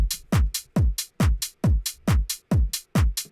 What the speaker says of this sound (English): So the kick, clap, and hat together sound like this.